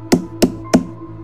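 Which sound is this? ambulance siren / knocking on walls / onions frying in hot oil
knocking on walls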